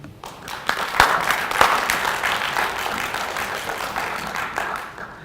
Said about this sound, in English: please give a round of applause for our next presenter, Mr. Benjamin Fick.